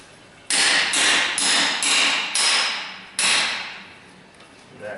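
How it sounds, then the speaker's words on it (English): A hammer strikes a metal breaker bar five times in an uneven rhythm, each blow sharp and close, ringing briefly before fading. "Give that a couple whacks."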